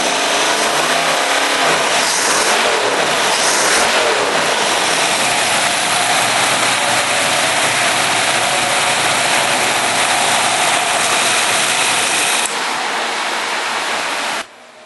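A Ford 302 V8 fitted with a Pertronix distributor runs steadily and loud, its idle raised to a fast, even drone for about twelve seconds before the revs drop away near the end.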